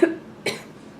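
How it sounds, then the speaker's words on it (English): A single sharp cough, with a short throaty burst followed by a second smaller push, close and alone. "Perfectly timed cough."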